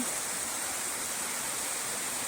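A waterfall created by heavy overnight rain, feeding into a lake, roars as a steady, dense broadband rush of falling water, continuous and even throughout with no voices.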